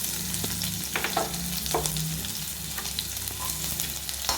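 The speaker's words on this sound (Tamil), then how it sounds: "மிளகாயை போட்டுட்டு மிளகாய் வறுபட்ட உடனே வெங்காயத்தை சேர்த்துக்கோங்க." Onions and dried red chillies fry in hot oil for onion rasam, giving a steady close sizzle with light stirring scrapes throughout, no voices.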